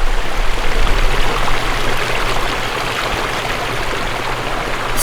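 Water runs steadily through a garden water feature, a loud, close, continuous rushing and trickling flow with no voices.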